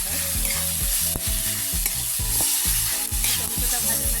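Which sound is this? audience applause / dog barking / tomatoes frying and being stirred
tomatoes frying and being stirred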